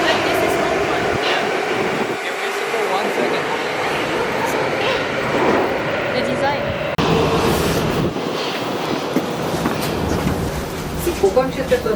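A Prague tram rumbles and rattles steadily past on a late-night street, with people talking over the continuous rail noise.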